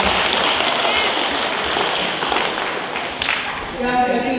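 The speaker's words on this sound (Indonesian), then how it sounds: "mari kita beri tepuk tangan untuk CMN." Loud, dense audience applause fills a religious ceremony honoring a nun, holding steady throughout before a voice begins over it near the end.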